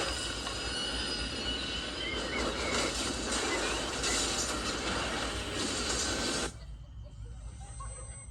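A freight train rolls past with a loud, steady rumble and high metallic wheel squeal. After about six seconds it drops abruptly to a quieter hiss.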